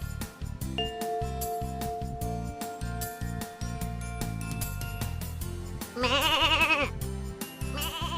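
A sheep gives one loud, wavering bleat partway through, set over a bouncy musical backing with steady beats and chiming tones in a children's farm animal sound game.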